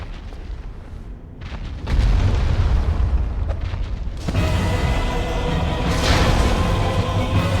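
Fire bombs blasting in the video game Dark Souls Remastered: deep, booming bursts that swell into a sustained roaring rumble, a second, louder blast following a few seconds after the first, with no talking.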